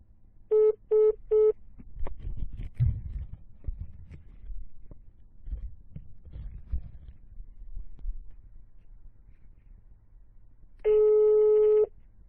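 A telephone line gives three short beeps after a cut-off call, then faint rustling and handling noise, followed by one longer steady tone near the end.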